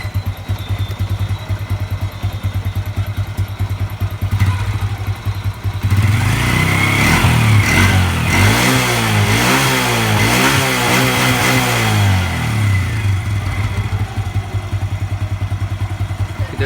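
An old Honda Revo 110 motorcycle engine with a welded exhaust idles with a steady low thrum, then is revved hard several times in loud surging bursts before settling back to idle.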